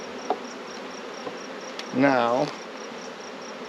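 Honey bees from a swarm trap buzz faintly in a steady hum, with one brief louder swelling buzz near the middle; a single spoken word is heard.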